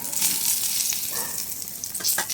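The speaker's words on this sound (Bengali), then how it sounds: "সকালে রান্না বসিয়ে দিয়েছি এখানে হচ্ছে বেগুন ভাজা" Eggplant frying in a pan gives a steady, hissing sizzle with a few soft stirring scrapes. It is close and fairly quiet, and no one speaks.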